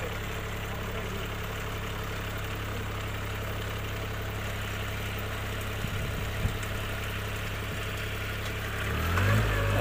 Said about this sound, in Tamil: வண்டி ஓடுது.